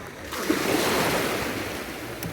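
Sea waves wash onto a sandy beach at Durres, Albania, a continuous soft surf roar with light wind noise, heard close by with no talking.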